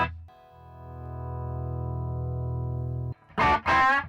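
An electric guitar played through a StewMac King of Tone overdrive pedal kit holds one sustained, gritty overdriven note for about three seconds, then cuts off, followed by a short loud vocal exclamation.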